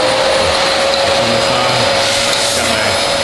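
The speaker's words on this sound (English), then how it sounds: "I'm just gonna take my vacuum handle and just get in there and just clean that up a little bit." A handheld vacuum cleaner with a brush attachment roars steadily at close range as it cleans dirty refrigerator coils, a constant loud whine and rush of air with no pauses.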